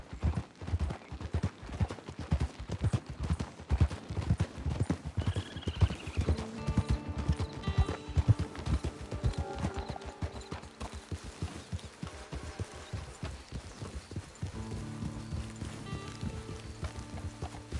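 Rhythmic clip-clop of horse hooves trotting along in the video game Red Dead Online, steady and close, with a light musical score swelling in partway through and no talking.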